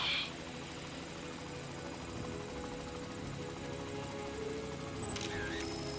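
A helicopter in the zombie video game Dead Rising drones on steadily and loudly for the whole stretch as a constant rotor roar, with a brief higher whine near the start and a camera-like click near the end.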